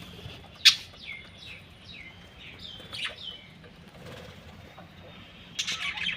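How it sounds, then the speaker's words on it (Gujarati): Pet budgerigars in a home aviary give a string of short, faint chirps and warbles that rise and fall. A sharp flutter opens the sequence and a brief burst of chatter closes it, over a quiet background. "પહેલા બજરીગર ચકલા છે."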